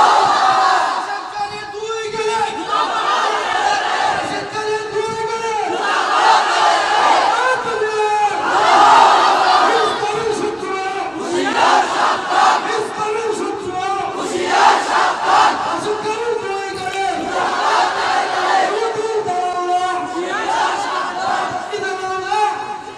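A large crowd at a religious gathering shouts a takbir response in loud, repeated chanted waves, many voices together filling the space continuously.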